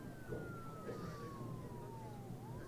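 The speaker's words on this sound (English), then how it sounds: "I hear a siren in the background." A faint, distant siren wails in a slow descending tone, half buried under a steady rumble of background noise at a high school homecoming football game.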